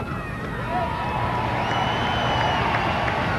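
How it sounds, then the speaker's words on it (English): A stadium crowd at the 1997 South Africa versus Pakistan second cricket Test gives warm applause, a steady broad wash of clapping and cheering that holds at an even level throughout. "And the crowd give very warm applause"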